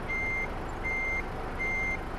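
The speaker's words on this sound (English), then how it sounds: "let me get rid of that reverse beep" Truck reverse alarm in Euro Truck Simulator 2 during a winter drive, three steady electronic beeps each lasting about a third of a second, evenly spaced, loud and clear over a low rumbling engine hum.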